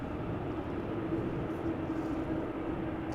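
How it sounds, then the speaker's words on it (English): An airliner landing at Amsterdam Schiphol after a long flight from Shanghai, using reverse thrust: a continuous, heavy, distant engine roar with a broad rumbling texture holding steady throughout. "they did use the reverse thrust there. Nice to hear."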